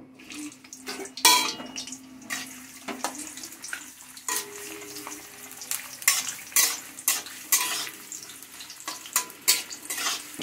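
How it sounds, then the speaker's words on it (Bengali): Mixed vegetables such as papaya, eggplant and ridge gourd fry in an oiled pan for a paneer sabzi, with a steady sizzle broken by repeated scraping stirs and clanks of a utensil against the pan, close and fairly loud. "এবার আমি সবজিগুলো সব ভেজে নেব"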